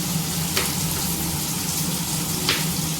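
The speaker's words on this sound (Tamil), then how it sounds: "இப்போ பார்த்திங்கன்னா தக்காளி வெங்காயமும் வதங்கியிருக்கும்." Chopped tomatoes and onions sauté in a pan while making lentil rice, giving off a steady, close sizzle with a couple of brief stirring scrapes and no voices.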